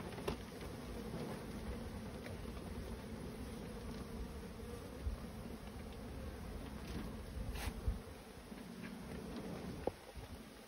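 Honeybees buzz around a hive, producing a steady, low, droning hum that runs throughout at moderate distance, with faint occasional taps and knocks.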